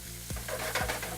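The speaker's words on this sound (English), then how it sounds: "Let's go ahead and put some lamb sliders in there." Lamb sliders laid one by one into a hot frying pan, each hitting with a sharp hiss that swells into a steady, close sizzle of meat cooking.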